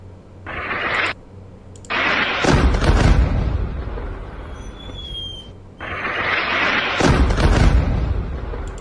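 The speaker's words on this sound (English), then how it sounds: "American terrorists in an A-10 aircraft carried out airstrikes targeting locations in Mosul, Iraq" Heavy explosions from A-10 aircraft airstrikes in Mosul, Iraq, heard as two loud, distant booming rumbles separated by a few seconds of lower, continuous roar.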